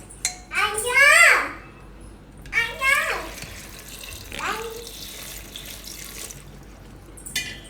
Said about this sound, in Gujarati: આમાં પાણી નાખશું આપણે.